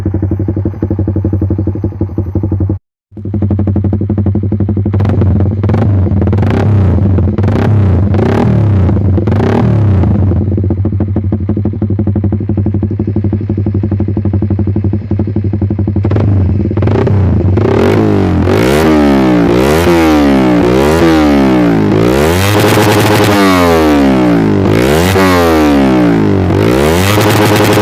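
A Suzuki Satria FU motorcycle fitted with a Pro Liner TR1 aftermarket exhaust idles loudly up close, then is revved repeatedly in rising and falling bursts, the blips growing sharper and more rapid with crackling toward the end.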